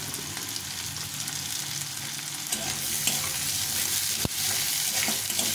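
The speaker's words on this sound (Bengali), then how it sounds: "আলুগুলো একটু ভেজে নেব।" Potatoes frying with onion in a pan for a small-fish vegetable chorchori, a steady close sizzle throughout that grows slightly louder midway, with one sharp clink near the end and no talking.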